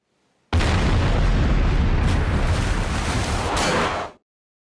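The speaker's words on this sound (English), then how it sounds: "Then the bad guys shoot their yacht with a torpedo." A torpedo strikes a yacht in a movie scene, a sudden loud explosion that erupts into a long, rumbling roar lasting a few seconds before cutting off abruptly.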